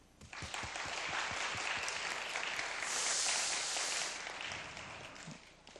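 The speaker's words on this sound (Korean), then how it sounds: "우리 모든 청년들 자축의 박수" A church youth congregation breaks into applause, many hands clapping together that swell quickly to a loud, sustained roar, peak in the middle, then taper off toward the end.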